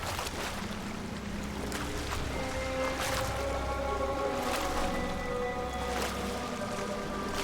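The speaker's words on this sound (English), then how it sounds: "These waves." Ocean waves washing around a sailing ship in the pirate video game Sea of Thieves, a steady rushing swell of water and wind with creaking tones, moderately loud and continuous, with no talk.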